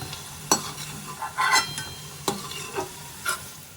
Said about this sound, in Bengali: আর এগুলো কিন্তু হালকা করেই একটু ভেজে নেব